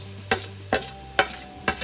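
Crushed garlic and ginger sautéing in a pan for roasted-tomato rasam, a steady close sizzle broken by four evenly spaced scraping stirs, with no talking.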